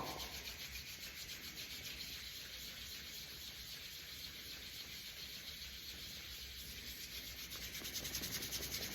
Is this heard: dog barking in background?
no